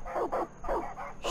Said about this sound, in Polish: Chodźcie psy na podwórko.